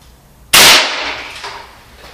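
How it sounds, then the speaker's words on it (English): A Baby Desert Eagle BB pistol fires a single sharp, loud shot at a target 20 feet away inside a garage, followed by a short fading echo and then quiet. "So I did all 10 shots at 20 feet away."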